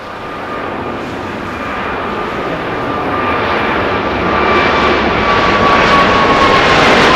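A jet airliner departs Los Angeles International Airport with a loud, continuous engine roar that slowly swells in volume, heard alone without talk.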